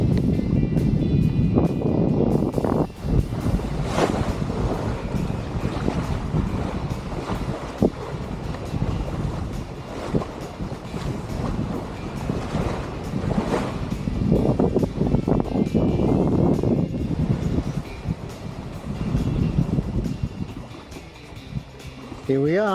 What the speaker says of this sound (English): the westerly wind has picked up to about 12 knots